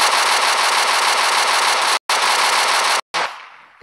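AK-47 fired in a Minecraft PE guns mod: two loud sustained bursts of rapid automatic gunfire separated by a brief gap, then a short third burst that trails off into a fading echo.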